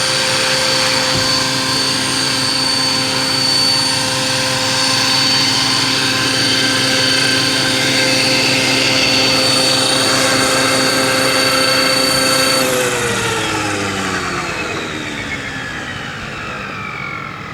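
A scale model Sikorsky HUS-1 Seahorse (UH-34D) helicopter lands: a loud, steady rotor and motor whine with layered tones holds, then winds down and fades near the end. No voices.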